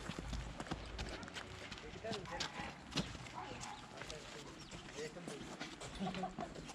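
Horse hooves clip-clop in Cappadocia during a guided ride, a faint irregular train of hoof clicks beneath nearby people talking and outdoor background noise.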